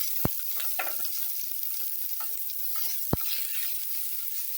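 Green chillies and onion sauté in a pan, making a continuous close frying sizzle with two sharp clacks of a utensil against the pan and some soft stirring scrapes.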